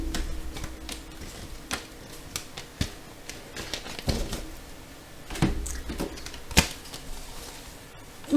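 A tarot and Lenormand card deck is cut and shuffled by hand, giving soft irregular ticks and snaps of cards against each other, close and quiet over faint room hiss.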